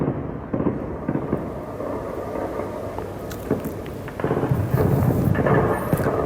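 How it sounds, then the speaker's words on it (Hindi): Gunfire at the shore of Gaza, directed at fishermen on the sea: repeated heavy booming cracks roll over continuous rumbling background noise, coming in irregular bursts. "गोलीबारी की आवाज आ रही है"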